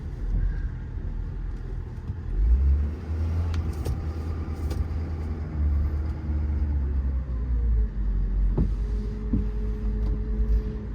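A 2019 Ford F550 4x4 service truck with a crane and six-speed automatic transmission rumbles steadily at low pitch, its engine running close by while the truck waits with little change in loudness.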